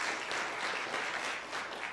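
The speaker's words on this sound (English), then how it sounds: "we'll clap for her anyway" An audience at a Princeton special council meeting claps steadily in dense, even applause with no voices.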